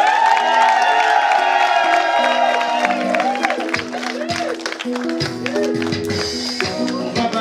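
A wedding congregation claps and cheers loudly and steadily in a hall, whoops rising over the crowd noise while voices sing a melody along with it.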